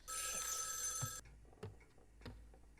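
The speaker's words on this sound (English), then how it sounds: "Another phone call?" In the horror game Spirit Hunter: NG, a telephone bell rings loudly for about a second and then cuts off, followed by a few faint soft knocks and thuds in a quiet room.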